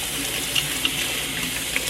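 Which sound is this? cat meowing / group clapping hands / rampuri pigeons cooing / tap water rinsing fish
tap water rinsing fish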